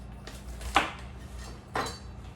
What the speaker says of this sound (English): Now I'm gonna cut up my romaine.